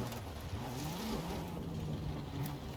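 Car engine in Forza Horizon 5 held at revs for a launch-control start, a low wavering drone with small pitch swings, fairly quiet and continuous.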